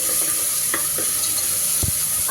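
A spoon stirring ginger garlic paste in a hot pan, with steady sizzling and a few short scraping knocks.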